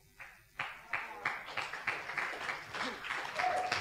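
Audience applause breaks out during a Christian sermon on wealth and prosperity in Indonesia, a ragged run of clapping that starts sparse and builds into a steady, moderately loud patter filling the hall.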